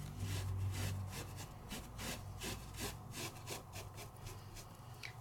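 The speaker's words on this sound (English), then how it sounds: "So I'm just rubbing over the whole thing." A wrung-out wet baby wipe is rubbed back and forth over a rubber stamp, giving a steady rhythmic scrubbing swish, close and continuous with no voices.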